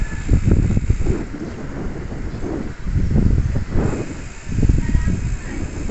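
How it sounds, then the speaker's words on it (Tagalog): Strong wind buffets the microphone on a hanging bridge, a steady low roar with gusty surges rising and falling throughout, no voices. "Mahangin ha. Mahangin."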